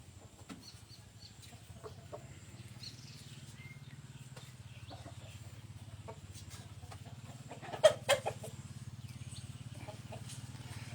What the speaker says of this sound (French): Des coqs de combat, comme vous avez pu le deviner